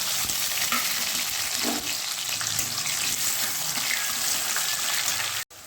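Onions frying for chicken do pyaza make a loud, steady sizzle that fills the whole stretch without a break, close up, with no talking over it.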